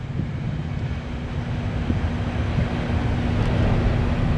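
A northbound Norfolk Southern coal train passes in Marion, Ohio, giving a steady low rumble of rolling wagons with a faint sustained tone, loud and unbroken throughout.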